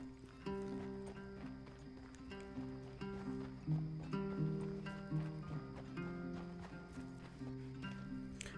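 Rhythmic clip-clop of horse hooves in Red Dead Redemption 2 over synthesized game music, steady and continuous, with a brief whinny-like tone.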